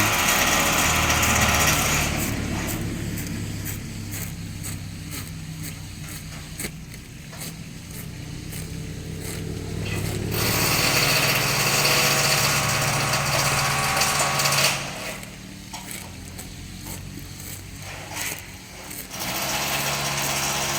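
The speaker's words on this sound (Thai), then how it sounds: "อันนี้ช่างเขากำลังติดกระจกอยู่นะครับ เสียงดังนิดนึง" Loud, continuous power-tool whine and grinding from workers installing glass, varying in intensity over a steady low mechanical hum, with no voices.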